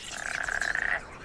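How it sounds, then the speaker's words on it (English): Frogs croak in a breeding chorus on floating wetland islands, a rapid pulsing trill that swells for about a second and then stops, fairly close with no voices. "Frogs are breeding too,"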